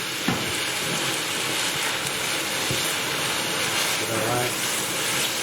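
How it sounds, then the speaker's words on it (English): Crispy chili beef being stirred through sauce in a pan gives a steady hissing sizzle with soft scraping stirs, a short spoken word near the end. "give it a good stir. So the coating of the beef gets all in that sauce."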